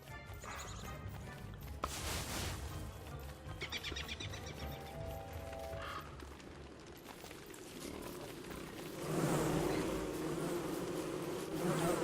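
Killer bees from the video game Don't Starve Together buzz steadily as a drone of insect wings, mixed with other faint game sounds, and the buzzing swells louder near the end.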